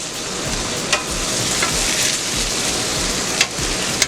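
Bacon and sausage fry on a griddle in a steady, close sizzle with a few sharp pops and crackles.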